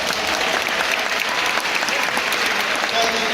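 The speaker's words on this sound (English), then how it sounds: "Let's give them a big round of applause." Dense, steady applause from a large crowd at a high school graduation ceremony, loud and continuous throughout without a break.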